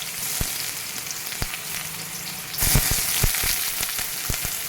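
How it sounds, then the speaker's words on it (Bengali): Onions hit hot white oil in a wok, a dense close sizzle with crackling pops and a few sharp clinks, swelling louder midway and staying steady to the end. "তেল গরম হয়ে গেছে, পেঁয়াজটা দিয়ে দিই"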